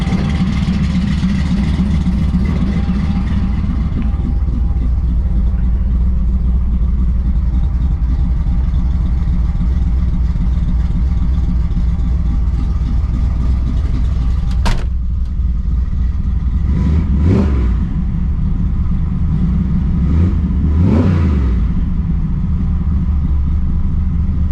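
A 1979 Ford F100 with a 408 stroker V8 rumbles loudly at a steady warm-up idle, then gives a few short revs late on, each swelling and falling back to the deep idle.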